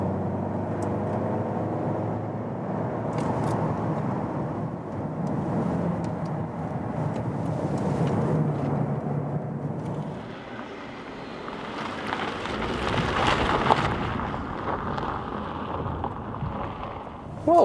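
A VW Passat Alltrack in soft off-road use rolls over rough ground, with a continuous rumbling cabin noise, bumps and knocks, and rattling thuds later as the car jolts over the terrain.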